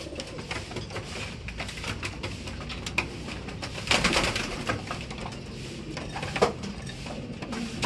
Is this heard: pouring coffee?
no